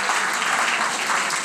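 An indoor audience claps steadily, a dense even round of applause with no voices rising above it.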